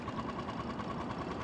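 Tohatsu 4HP outboard motor idling on a small boat, a steady fast mechanical putter with a constant humming tone, close and continuous with no talk.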